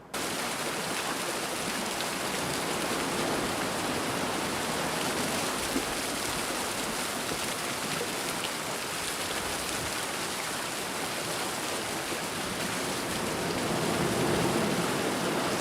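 Ocean field recording with a steady wash of broadband surf noise and low rumbling underneath, constant and fairly loud throughout with no voices.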